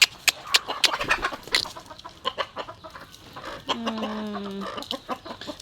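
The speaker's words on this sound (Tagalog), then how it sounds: "Tayo po ay magpapakain itong mga manok." Chickens cluck and squawk in short, irregular bursts while being fed, with a rooster's crow rising out of the flock partway through, all fairly close by.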